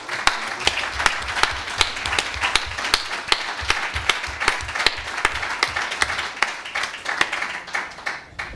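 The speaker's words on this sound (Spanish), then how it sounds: "Un aplauso para ti." A conference audience gives sustained applause at a university lecture event, many hands clapping in a brisk, crisp rhythm that continues steadily for several seconds without talk.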